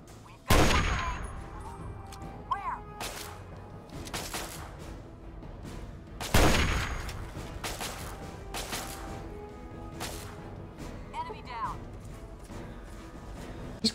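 Gunfire in Fallout 3 as a companion picks off a distant enemy with a long-range shot, several sharp loud cracks spaced seconds apart with echoing tails, someone talking in between.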